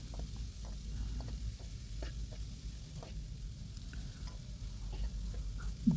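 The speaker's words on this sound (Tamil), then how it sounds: "காயை போட்டு எண்ணெயில் ஒரு நிமிஷம் வதக்கிட்டு எண்ணெயில் வதக்காச்சு" Vegetables sauté in oil for a vegetable dal kuzhambu, giving a faint, low sizzle with occasional soft ticks and clicks from the pan, quiet and steady throughout.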